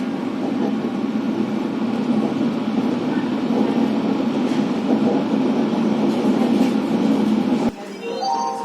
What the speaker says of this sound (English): now we go along to the epic old trams